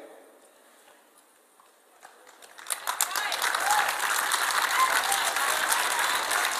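A conference audience at CPAC 2019 breaks into applause that starts faintly, then swells after a few seconds into loud, sustained clapping that continues to the end.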